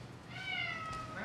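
A cat meows once close by indoors, a drawn-out tonal call with a slight rise at the end, over a quiet room hum.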